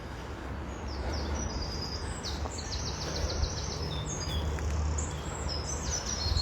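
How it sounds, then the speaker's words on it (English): Birds chirp and trill repeatedly in a forest over a low rumbling background, with several short bright songs scattered throughout at moderate distance. "There's lots of birds in this forest, but don't really see them."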